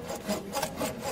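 Makita saw blade cutting through wood, a raspy rhythmic back-and-forth grinding in close, repeated strokes roughly every quarter second, without talk.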